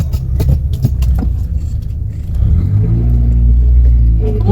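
A friend's Porsche fitted with a quick shifter revs loudly at a Jakarta Toyota Starlet club meet-up, a deep, close engine roar that swells and holds steady, rising in pitch toward the end.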